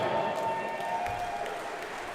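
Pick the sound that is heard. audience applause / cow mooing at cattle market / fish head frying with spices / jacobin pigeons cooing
audience applause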